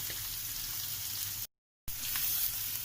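Chopped cabbage with coriander, chili powder and salt sizzling steadily in a pan, a soft continuous hiss broken by a brief gap of silence.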